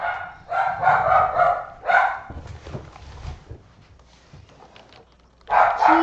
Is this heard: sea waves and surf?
no